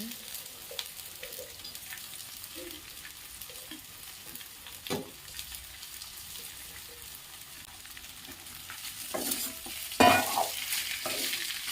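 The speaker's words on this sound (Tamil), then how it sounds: "இப்போது நம்ம பெஸ்ட் வச்சுருக்க கோவக்காவை போட்டுக்கலாம். போட்டு நல்லா வதக்கிக்கோங்க." Ivy gourd (kovakkai) sautés in a pan with a faint continuous sizzle and scattered soft stirring scrapes, ending in a louder burst of spoon-on-pan clatter near the end.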